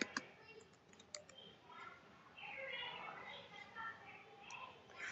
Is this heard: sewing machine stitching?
no